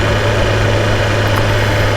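A BMW S1000RR Sport motorcycle engine idles in gear with a loud, steady, close-up thrum and vibration, unbroken and alone.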